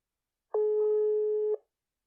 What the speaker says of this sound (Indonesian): Mari kita telepon.